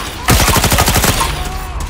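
Rapid automatic gunfire in a Fallout 4 firefight, a dense string of close, loud shots rattling for over a second before thinning into echoing tail and faint background.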